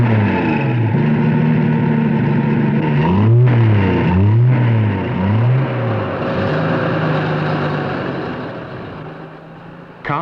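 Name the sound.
car engine revving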